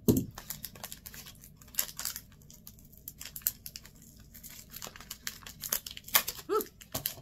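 Tape being cut and peeled off the packaging of a Harry Potter crochet kit: scattered crinkling, snipping and tearing sounds in irregular short bursts, fairly quiet and close, with no talking.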